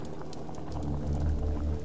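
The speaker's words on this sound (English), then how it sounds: "So, this pot is boiling." A pot of cold water heated over a fireplace in a flash escape game bubbles at a steady rolling boil, a continuous close burble with low gurgling throughout, no voices.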